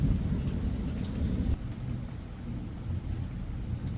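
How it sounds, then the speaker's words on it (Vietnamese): Low thunder rumbles steadily through a downpour of rain, a deep rolling roar under the constant wash of falling water, with no voices. "Bây giờ hiện tại nó còn kèm theo cả sấm nữa rồi."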